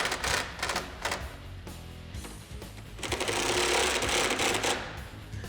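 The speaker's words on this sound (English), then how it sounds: "You're gonna take a 1/2-inch socket and we're just gonna finish tightening those on both sides." Socket ratchet snugging down the bolts of a DV8 Off Road Ranger hard top on a four-door Jeep Wrangler JK, heard as rapid, busy mechanical clicking and whirring that runs continuously at close range, swelling louder in the second half.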